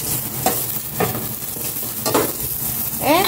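Two cloves of garlic sauté in plenty of cooking oil, a loud close sizzle punctuated by three or four distinct spatula strokes scraping through the pan.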